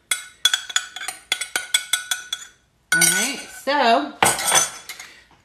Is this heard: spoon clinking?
yes